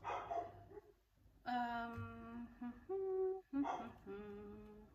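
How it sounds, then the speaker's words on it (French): A dog barks and yelps several times in short, agitated bursts outdoors, somewhat distant and muffled. "Vous entendez certainement mon chien qui s'agace"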